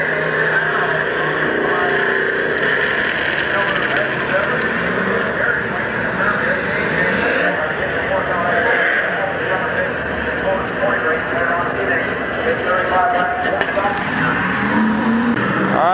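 Sports stock race cars in a heat race at Midvale Speedway in 1990 hold a loud, droning engine roar that rises and falls as they circle the track, while an announcer talks over it nearly the whole time.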